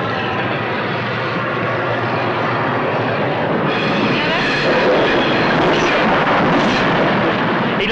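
A train rumbles past nearby in a steady, loud roar that brightens and intensifies toward the end as it passes, with no voices.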